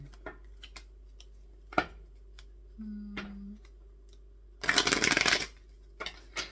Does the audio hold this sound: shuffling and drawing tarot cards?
yes